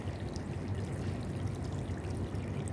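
Water sprays and splashes steadily from a children's splash mat outdoors in summer, a continuous pouring, trickling wash with no clear talk over it.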